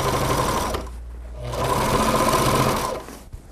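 A sewing machine stitches fabric in two steady runs, pausing briefly between them to backstitch; its motor hum and needle chatter are close, loud and uninterrupted by talk.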